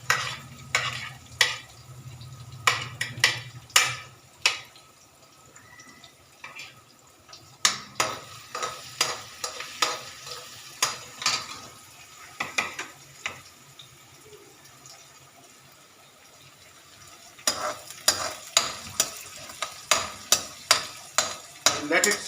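Ginger, green chili and garlic stir-fried in a pan: a low sizzle with quick bursts of scraping, clattering stirring strokes that come in clusters and pause briefly in between.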